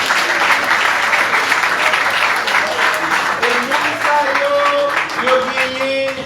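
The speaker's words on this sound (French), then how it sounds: "nous applaudissons encore," Congregation applauding inside a Baptist church, a loud, dense burst of hand clapping sustained for several seconds, with some voices calling out beneath it toward the end.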